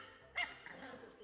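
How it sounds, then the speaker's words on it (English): A dog gives a short yelp or bark while going after a cat indoors, with a brief loud burst followed by quieter whimpering sounds, faint background noise throughout. "why is that dog trying to bite that cat?"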